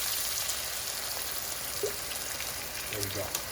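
Cream poured into a pan of salmon sauce for penne, with a steady rain-like sizzle filling the background throughout and a few brief low clinks near the end; no one speaks.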